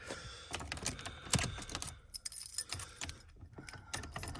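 Keys jangling and metal clicking in the ignition of a box Chevy that won't start, with a series of sharp, close rattles and knocks as the stuck key is worked back and forth.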